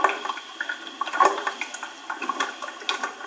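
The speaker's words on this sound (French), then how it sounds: "ouvrir son robinet pour se faire un café" Water runs from a kitchen tap in a home in Charente, France, a steady splashing rush heard up close and alone for a few seconds.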